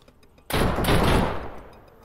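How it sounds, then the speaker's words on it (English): A burst of gunfire erupts in a survival video game, a sudden loud crackling volley that rings out and decays over about a second and a half after a quiet start. "Where's that shot coming from?"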